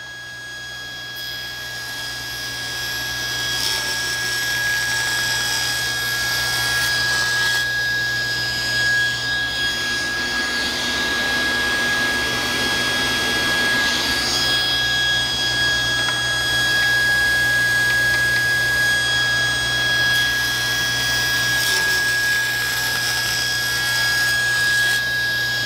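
Saw cutting a wood drawer part in a woodworking shop, the wood having already been run through a thickness planer. The cut is a steady, continuous whine with a constant tone running throughout, fairly loud, and there is no talk.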